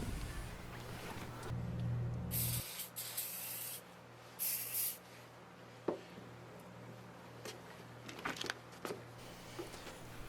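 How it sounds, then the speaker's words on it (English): Silicone spray aerosol hissing onto door gaskets and threshold seals in several short bursts of varying length, close and fairly quiet, with handling noises and rubbing between sprays. "I sprayed the threshold with a little extra silicone spray"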